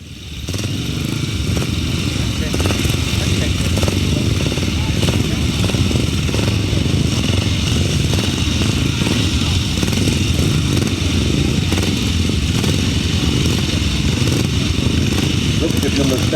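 Grasstrack racing motorcycles roar along the back straight at a Ledbury meeting, a loud sustained engine drone from several bikes mixed with crowd noise, with a commentator speaking over it.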